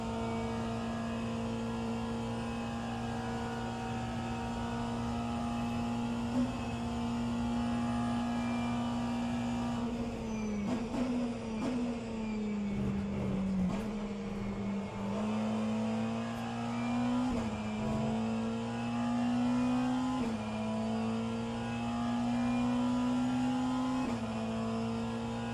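BMW race cars in the rFactor 2 racing game during a 24-hour virtual endurance event, engines droning steadily at high revs with pitch dips and climbs through gear changes, several cars overlapping, continuous and loud with no talk.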